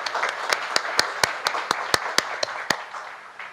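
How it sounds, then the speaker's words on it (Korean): Applause at a national assembly policy seminar on defense and the future security environment, sounding as a sparse run of distinct claps that thin out over a few seconds, fairly close. "저희가 다시 한번 큰 박수로 격려를 하시죠."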